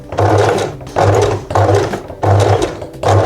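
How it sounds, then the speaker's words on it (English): Sewing machine stitching binding on a pyjama sleeve, running in short rhythmic bursts of rapid whirring with a low hum, close and loud, pausing briefly between each run. "I'm just gonna slowly keep sewing"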